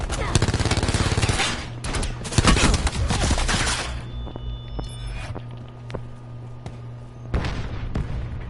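Gunfire from a Black Ops 4 beta multiplayer match, dense bursts of shots in the first four seconds, then quieter scattered shots and game effects, with another burst near the end; a voice speaks over parts of it.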